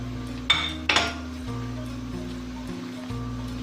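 A spoon works a potato and chicken cutlet mixture with coriander, carrot, capsicum and cabbage in a bowl, giving two quick metallic clinks early on before settling into a quiet, low background hum.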